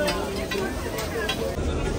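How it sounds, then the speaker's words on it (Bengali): Chow mein sizzles and is stirred in hot oil at a street food stall, a steady frying hiss with scraping beneath a busy babble of nearby voices. "চাউমিন, এখানে ভাজা হচ্ছে।"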